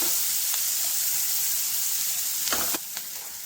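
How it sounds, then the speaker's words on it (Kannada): Chopped onion and ginger fry in oil in a pan for a paneer palak gravy, giving a steady, loud, close sizzle with a few brief stirring clatters near the end. "ಈರುಳ್ಳಿಯನ್ನು ಹಾಕಿ ಈಗ ಇದು ಹುರ್ಕೊಳ್ತಾ ಇದ್ದೀನಿ ನಾನು."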